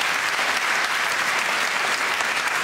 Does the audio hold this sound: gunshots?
no